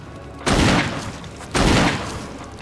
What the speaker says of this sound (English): The fucking gunshot sound, oh my god.